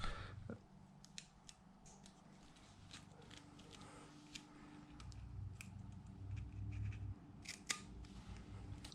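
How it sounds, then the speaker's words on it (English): Faint snipping of scissors cutting the backing paper off a wheel rim decal, a series of small sharp clicks and cuts spread over a quiet, low hum, close by. "take a pair of scissors. I'm going to cut the backing off."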